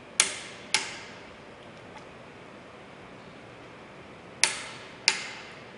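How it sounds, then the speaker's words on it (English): A torque wrench clicks at its set torque while tightening fasteners on a wind turbine: four sharp, close metallic clicks in two pairs, with a long quiet gap between the pairs. "Release pressure as soon as the wrench clicks."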